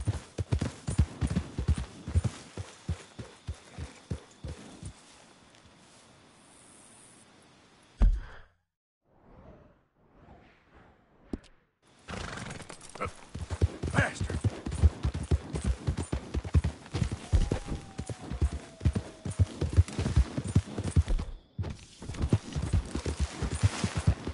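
Horse hooves gallop in a steady rapid clip-clop in Red Dead Redemption 2, pausing briefly with a soft sigh-like breath before the pounding hoofbeats resume close and loud.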